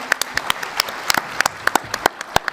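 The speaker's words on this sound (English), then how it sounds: "can we get a round of applause for the Stargate cosplay?" Light, scattered applause at a Stargate fan celebration at San Diego Comic-Con for Stargate cosplayers: a small number of distinct sharp claps over a faint crowd background, sparse and uneven rather than a full ovation.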